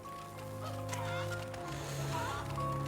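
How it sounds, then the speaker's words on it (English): Chickens cluck on a farm level of the video game MediEvil. The clucks are moderately quiet and irregular over a low steady background hum. "it is really important that we herd chickens around for the first part of this level"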